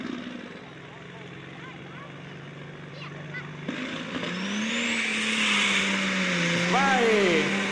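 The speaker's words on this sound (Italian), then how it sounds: "Il motore sta andando su di giri e adesso vedremo cosa succederà" A tractor engine revs and climbs in pitch before a tractor pull at an outdoor pulling event in Cavour, the drone swelling louder and steadier over the last seconds amid crowd and announcer noise.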